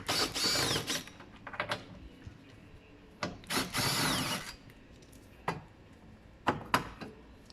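A power drill backs out T30 Torx screws holding the headlight of a 2008-2017 VW Scirocco Mk3, in several separate bursts of high whirring, each followed by short clicks and taps of handling.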